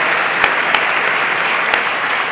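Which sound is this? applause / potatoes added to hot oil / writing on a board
applause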